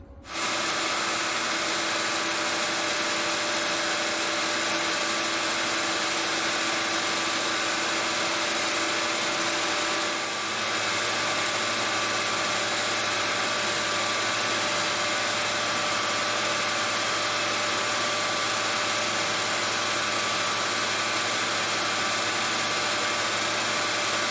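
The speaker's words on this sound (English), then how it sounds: "take this piece back to the surface grinder and see if I can get it back to straight" A surface grinder in a machine shop runs steadily with a continuous mechanical whine and hum, loud and unbroken, with a brief dip partway through and no voices.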